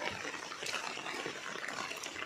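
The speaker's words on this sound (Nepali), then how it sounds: "म चाहिँ बिहानै पानी परिरहेछ" Early-morning rain falls over a village as a soft, even hiss of drops that stays faint and distant throughout.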